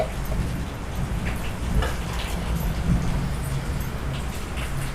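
Heavy rain falls in a forest during a storm with lightning, a steady dense patter on surfaces, moderately loud and continuous throughout with scattered drip ticks.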